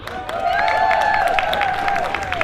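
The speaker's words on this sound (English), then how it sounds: "Make sure you give a round of applause for them" Outdoor crowd at a climate change protest march gives a light round of clapping under a sustained tonal squeal and drifting voices, the applause sparse and moderately distant.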